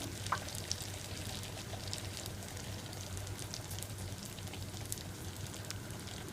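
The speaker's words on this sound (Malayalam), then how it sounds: "2 സൈഡും ഫ്രൈ ആക്കി എടുക്കണം." Pappada vada, a Kerala snack of papadam in batter, fries in hot oil with a soft, steady crackling sizzle and faint popping throughout.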